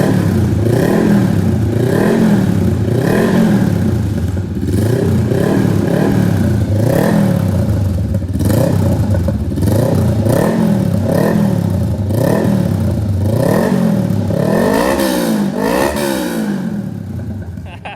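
A Honda Rebel 500 motorcycle exhaust revs loud and close, rising and falling in repeated throttle blips over a rumbling engine, and someone speaks faintly beneath it.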